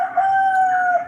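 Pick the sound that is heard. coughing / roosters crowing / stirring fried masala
roosters crowing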